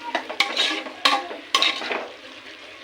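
Vegetables for a fenugreek pulao get stirred in a pan, with several sharp scraping strokes and light clatter over a soft sizzle, all close and uneven in rhythm.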